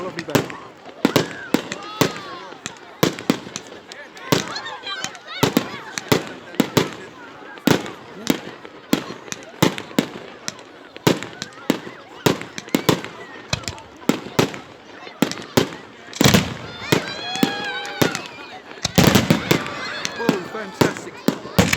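A rapid barrage of fireworks explodes at the Great Yarmouth evening show, loud sharp bangs and crackling volleys rattling almost continuously for over twenty seconds, with voices faintly audible between bursts.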